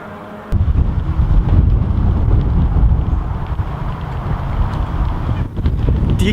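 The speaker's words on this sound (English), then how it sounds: "It's gone really windy as well." Steady, heavy wind buffeting the microphone at the Brands Hatch race circuit, a continuous loud low roar that gusts and flutters throughout without letting up.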